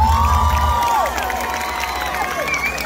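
Concert crowd at Taman Bung Karno in Buleleng cheers and claps, with high whoops and shouts riding over a steady roar of applause that stays loud and close throughout.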